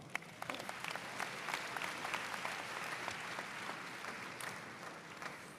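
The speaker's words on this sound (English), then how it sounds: "Round of applause for Mr. Rock." Graduation audience at a high school ceremony applauds steadily for several seconds, a dense, even patter of many hands from a large crowd with a few sharper claps standing out.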